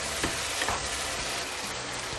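Shiitake mushroom chicken stir-frying in a wok with soy sauce drizzled in, a loud continuous sizzle with faint scraping stirs, no talking.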